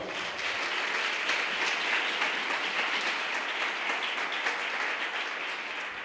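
A church congregation applauds during a Portuguese-language sermon, a dense, steady wash of many hands clapping that holds evenly at full strength for several seconds with no voices standing out.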